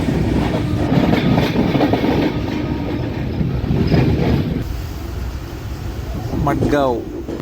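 The Netravati Express rolls along near Madgaon Junction, with a continuous carriage rumble, rattling clickety-clack and an air-conditioning hum heard from inside the train, plus a brief voice near the end.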